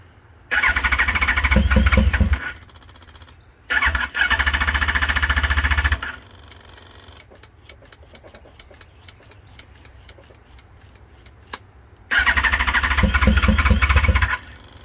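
A 2005 Yamaha FZ1 motorcycle engine cranks and catches in loud bursts, running roughly and unevenly, then cuts out, leaving a quieter stretch of faint ticking before it roars again.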